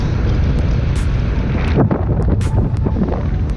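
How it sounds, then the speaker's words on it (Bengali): Strong wind blowing outdoors roars steadily against the microphone, with louder rumbling gusts swelling midway through. "বিরাট বাতাস"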